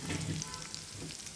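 Battered pumpkin fritters fry in oil with cornflour in the batter, giving a continuous close, bright sizzle and hiss for a brief moment.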